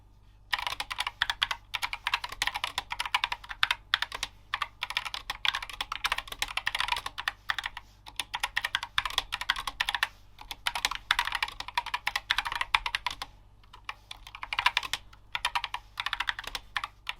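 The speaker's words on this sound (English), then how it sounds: "Typing on this thing is an absolute dream." Typing on a Corsair K70 RGB OPX mechanical keyboard, with fast, steady bursts of crisp key clicks running almost throughout, broken by a few brief pauses, close and clear with no talking.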